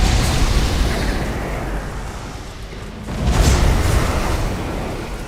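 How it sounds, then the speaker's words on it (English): A Nova Cannon blast in the space strategy game Battlefleet Gothic Armada 2: a loud, sustained rumbling explosion that swells again midway, with a dense low roar and no talk. "They hit themselves with a Nova Cannon."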